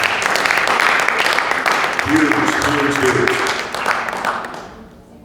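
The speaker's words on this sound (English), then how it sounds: "deserves a huge round of applause" An audience at a conference volunteer appreciation event gives a sustained round of applause, dense clapping that fades out at the end, with a voice speaking over it.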